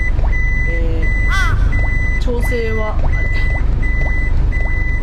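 Reversing beeps from a wide vehicle backing up with its guideline camera view, a steady repeating tone alongside other chimes and a speaking voice over constant road and engine noise.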